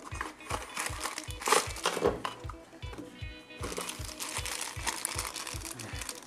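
Crinkly plastic rustling as small bags of Star Wars candy-toy figure parts are handled and opened, with steady rhythmic thumping in the background throughout.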